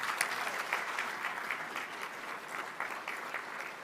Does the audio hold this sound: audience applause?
yes